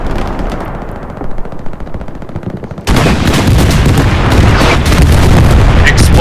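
Gunfire and explosions in the Hell Let Loose video game, with four tanks in play: a dense, loud barrage of rapid shots and booms that thickens into a sustained roar of combat after a few seconds.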